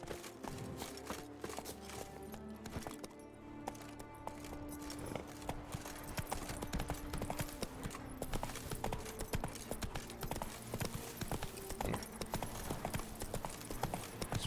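Hooves of Roach, the horse in The Witcher 3 game, clip-clop in a steady walking rhythm throughout, close and distinct over a dense layer of game music and ambience.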